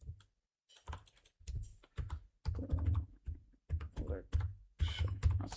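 Fingers typing on a computer keyboard, a close run of quick key clicks in irregular bursts with brief pauses, while someone speaks quietly over the typing.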